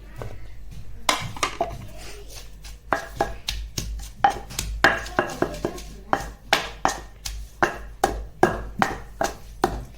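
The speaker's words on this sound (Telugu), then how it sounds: "పచ్చిమిరపకాయలు వేసి దంచుదాం రోట్లో ఇచ్చి." Green chillies being pounded in a stone mortar for a dry fish roti pachadi: a series of sharp, regular thuds, loose at first, then settling into a steady rhythm of strikes close by.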